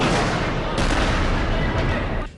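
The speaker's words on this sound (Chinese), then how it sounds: "在城市的上空还频繁地传出这个爆炸的声音。" Rockets fired from Gaza explode over Ashkelon as Iron Dome interceptors strike them; heavy booming blasts fill the air in a continuous loud roar of overlapping detonations, easing slightly at the very end.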